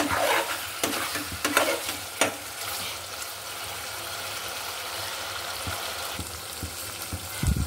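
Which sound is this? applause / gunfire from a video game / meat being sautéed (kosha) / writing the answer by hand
meat being sautéed (kosha)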